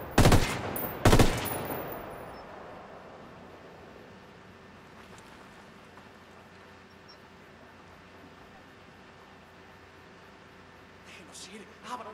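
Gunfire in Ghost Recon Wildlands, two sharp loud bursts of automatic fire near the start, then a long quiet stretch of faint ambient rumble before a few softer distant shots at the end.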